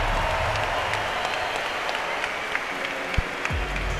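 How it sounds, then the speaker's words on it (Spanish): A crowd claps at a live event, likely a fight night, in a dense, continuous wash of applause with scattered sharper claps and faint voices underneath. "un fuerte aplauso a todos los que habéis venido a presenciar un evento como el de hoy"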